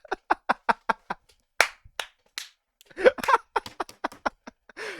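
One person claps hands in a quick run of sharp claps, then a pause with brief noises, then more claps mixed with a laughing voice, close and loud.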